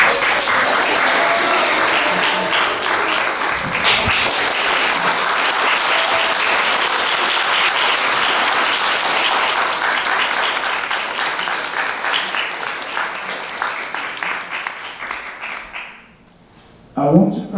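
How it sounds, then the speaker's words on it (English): Loud, dense applause from an audience for 3-Minute Thesis competition candidates gathered on stage at a university laboratory medicine and pathology event, sustained and steady before fading out near the end. "round of applause."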